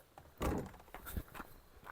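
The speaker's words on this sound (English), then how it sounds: "you open the door" A camper door swings open with a solid thunk, followed by softer clunks and shuffling footsteps nearby; a single close, moderately loud opening with no talk.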